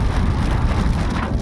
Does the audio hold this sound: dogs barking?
no